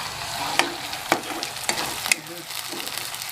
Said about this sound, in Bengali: মশলাটা আমি ভালো করে কষিয়ে নিচ্ছি।